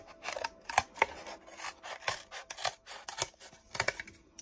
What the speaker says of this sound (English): I know it's challenging and a little tiring cutting through cardboard